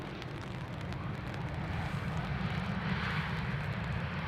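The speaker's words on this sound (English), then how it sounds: "Aero braking from Ryanair." A Ryanair airliner aero braking after touchdown at Dublin Airport on a rainy day: a steady, heavy roar of engine and airflow, sustained and fairly distant, with no talk.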